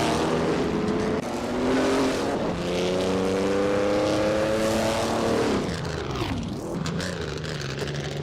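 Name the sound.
vintage racing cars in video game, 1952 Ferrari 375 Indy at Jerez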